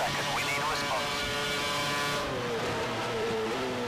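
A Formula 1 car in the F1 2011 video game at the Hungary Budapest circuit, its engine whining and rising in pitch as it accelerates out of a corner, loud and continuous with a gear change midway.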